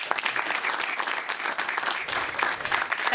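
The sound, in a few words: round of applause for award winners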